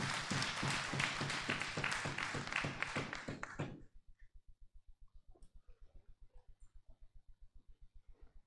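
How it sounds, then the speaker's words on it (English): Audience applause at a public event as a speaker comes on stage: dense, loud clapping from a crowd for about four seconds, then it stops abruptly and a faint rhythmic tapping continues. "Give her a round of applause as she comes."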